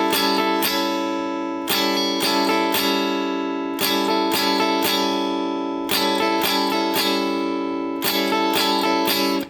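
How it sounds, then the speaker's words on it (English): Funk guitar playing a looping rhythm of sustained chord hits ringing out between quick muted strums, a clean, close, repeating pattern heard alone. "We're going to go ahead and play sustained hit on the 1 and 3."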